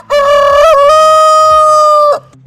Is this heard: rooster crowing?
yes